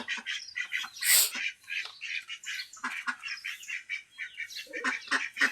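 Farm ducks quack and squawk repeatedly in a busy, chattering flock, calls overlapping close by with short gaps.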